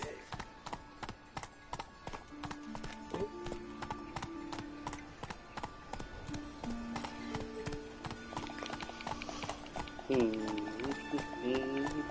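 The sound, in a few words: galloping horse Roach in the video game The Witcher 3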